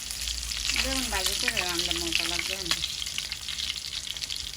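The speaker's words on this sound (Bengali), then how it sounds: "বেগুন দিয়ে একটু সাধারণ ভাজি করবে" Brinjal fries in a pan with a loud, continuous sizzle of hot oil, and a person speaks over it for a couple of seconds in the middle.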